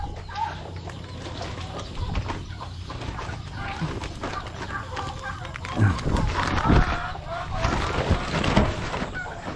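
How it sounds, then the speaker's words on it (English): Newly hatched baby chickens on a farm in the Philippines chirp and cluck in a busy, overlapping chorus, with louder peeps toward the end, while a person talks nearby. "These ones that hatched out. Little chickens."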